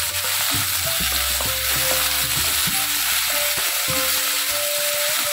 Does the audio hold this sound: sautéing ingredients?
yes